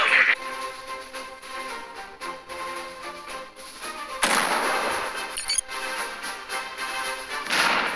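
Tank cannons fire in the mobile game Tank Stars, with booming blasts and explosions near the start, the middle and the end, separated by quieter game sounds and music.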